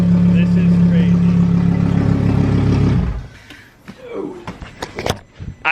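A Lamborghini Huracan with a Soul Performance straight-pipe exhaust roars at a loud, steady, deep pitch from close by, then cuts off abruptly, leaving light clattering and shuffling behind.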